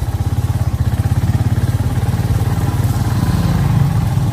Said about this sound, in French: Les taxis motos là.